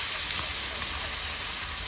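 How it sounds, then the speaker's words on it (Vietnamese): Pieces of floured catfish frying in hot oil in a home kitchen, giving a steady, dense sizzle that stays even and unbroken throughout, with one small pop near the start. "Rồi bây giờ tới món cuối chiên nha"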